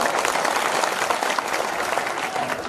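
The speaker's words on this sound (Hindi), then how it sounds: "एक बार जोरदार तालियां बजाकर बताओ" Loud, dense applause from a hasya kavi sammelan audience at a comic poetry gathering, steady clapping filling the whole stretch without a break.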